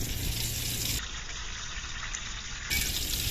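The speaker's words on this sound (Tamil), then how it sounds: "எண்ணெய் ஊற்றிக்கலாம்." Cooking oil pours into a pan for a fried chicken-leg dish, a steady, continuous liquid gush close by that runs the whole few seconds without breaks or talking.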